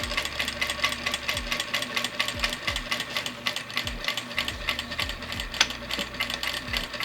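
A Vevor industrial sewing machine stitches and back-stitches through a double-layered ribbon tutu, its motor whirring steadily close by with rhythmic low thumps as the needle drives and briefly stops.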